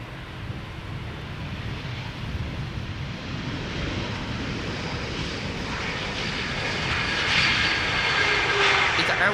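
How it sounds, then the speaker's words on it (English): An ITA Airways Airbus A320neo arriving from Rome lands on the center runway at Amsterdam Schiphol, its engine roar building gradually from a distant rumble to louder over several seconds, with some wind noise on the microphone. "ITA Airways flight 108 arriving from Rome. A320neo going to the center runway."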